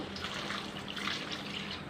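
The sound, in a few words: water poured into chicken curry in pressure cooker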